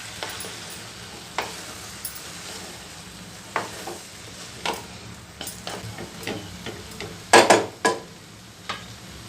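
A spoon stirs soaked flattened rice for avalakki chitranna in a pan, with faint sizzling underneath and irregular scrapes and clinks against the pan that grow louder and quicker toward the end.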